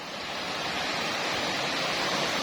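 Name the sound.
stream and waterfall by the land plot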